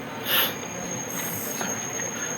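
An express train, the 17232 Nagarsol to Narsapur, pulls into Nadikudi junction with a steady broadband rumble of rolling wagons and a brief high wheel squeal near the start.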